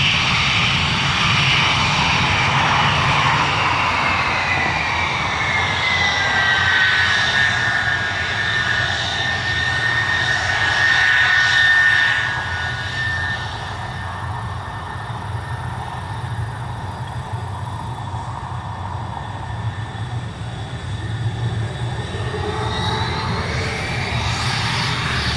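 A MiG-31 jet roars through an afterburner takeoff with a loud, sustained engine rumble and a high whine that shifts in pitch, then eases slightly as the aircraft moves away.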